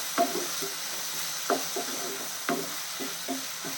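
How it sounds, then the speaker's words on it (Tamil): Tomato chutney cooking in a pan and being stirred, giving a soft continuous sizzle with a few spaced scraping strokes from a spoon, close and moderate in level, with no voices. "திறந்து பார்த்து கிளறிப்போம்"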